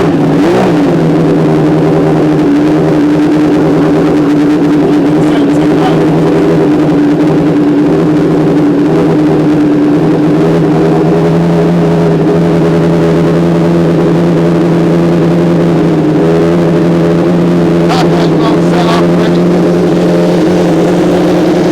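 A Suzuki Bandit cafe racer motorcycle engine running after starting on choke, a loud, steady idle with a strong low hum and small rises in revs, close up, with brief voices.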